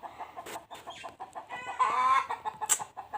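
Chickens in a village yard clucking close by, a run of short repeated clucks with a louder drawn-out squawk partway through.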